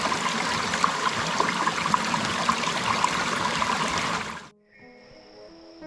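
A flowing stream along a trekking trail makes a loud, steady rush and splash up close, then breaks off abruptly near the end and gives way to quiet background.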